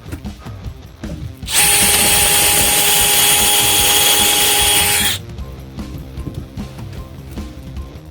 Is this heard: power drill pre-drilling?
yes